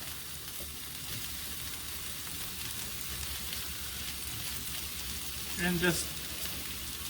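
Onion goes into okra frying in a pan, a continuous close sizzle with a brief flare near the end as a voice starts to speak.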